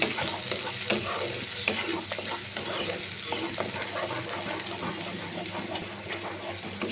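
Onion paste sautés in a pan for a spicy boal fish curry, making a continuous close sizzle and frying crackle. A utensil stirs it with repeated scraping and tapping strokes, and no voices are heard.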